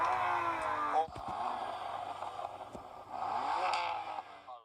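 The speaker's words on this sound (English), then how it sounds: "Thankfully, there is no soft limiter, so I can rev this engine freely and listen to how beautiful it sounds." A performance car engine revs freely with no limiter, climbing hard, dropping off with a sharp break, then rising again in strong close bursts that fade out at the end.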